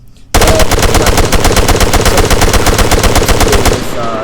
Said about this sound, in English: Just blank firing.